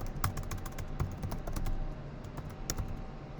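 Rapid clicking keystrokes on a computer keyboard, typed in quick irregular bursts close by, with no talking.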